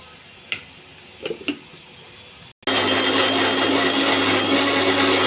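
A mixer grinder roars steadily for about three seconds as it blends a coriander and mint chutney with a little water. Before it starts there are a few soft clicks and knocks of the jar being set in place.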